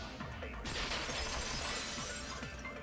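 Window glass shattering in the Danganronpa 2 video game: a sharp, loud crash breaks out and a bright spray of falling shards rings on for a couple of seconds, with no voices.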